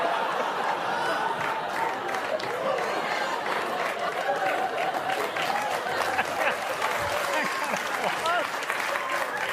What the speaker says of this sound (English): That eventually got applause?